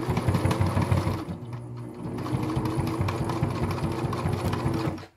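A sewing machine stitches a homemade food or bear bag, its rapid mechanical chatter running close and steady for about five seconds, briefly slowing partway through before stopping.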